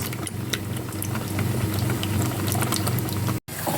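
Vegetables frying in a pan for a country breakfast, a steady crackling sizzle with scattered pops throughout, close and alone.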